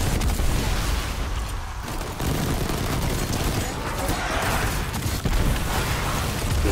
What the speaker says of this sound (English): Yeah, exploding dudes